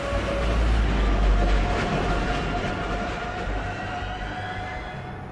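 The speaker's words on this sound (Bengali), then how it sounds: "দূর থেকে ট্রেনের আওয়াজ আসছে, ক্রমশ এগিয়ে আসছে আওয়াজটা।" A train rumbles along a railway line, a loud, continuous roar close by, with a sustained whistle-like tone over the rattling that eases slightly toward the end, with no voices.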